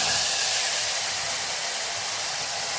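Tomato puree tipped into hot oil with cumin and asafoetida gives a loud, even, close-up hiss that holds steady throughout, with no talking.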